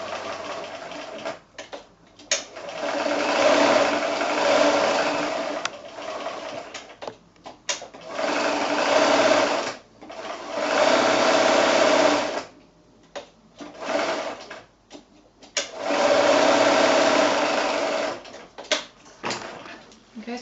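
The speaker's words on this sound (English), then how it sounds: "that's one line of sewing done" Sewing machine stitching a seam along a fabric gift bag, catching in a folded handle; several sustained runs of motor whir separated by short pauses, close and steady.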